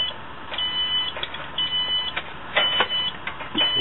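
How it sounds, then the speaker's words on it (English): A kitchen timer or alarm beeps repeatedly in a workshop during knife-blade heat treatment, with short, bright, evenly repeated tones sounding near and clear against a low steady background hum. "We're going to turn that alarm off."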